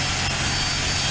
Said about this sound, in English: I think the LearJet is gonna get ready to take off.